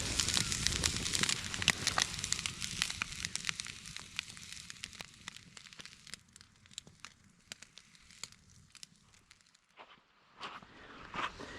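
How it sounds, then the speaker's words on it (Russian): Rice and cutlets sizzle and crackle steadily in a frying pan, close by, with scattered sharp pops and a soft hiss that thins out toward the end. "В сковороде шкварчит рис с котлетками."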